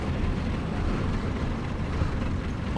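A loud, continuous low tank engine rumble in the video game War Thunder drones on without a break, heavy and close, with no talking.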